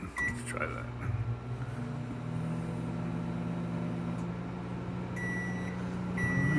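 Microwave oven humming steadily on low power to soften a stick of butter, a continuous tonal drone with a few beeps near the start and end.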